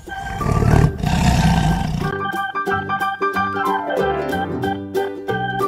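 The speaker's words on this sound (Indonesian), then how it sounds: "Ini suara harimau." A tiger lets out a loud, gravelly roar for about two seconds, then light, bouncy background music takes over for the rest of the clip.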